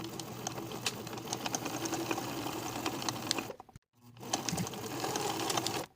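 Sewing machine top stitching along the placket of a knit jacket, a steady close whirring hum that runs continuously, cuts out briefly, then resumes.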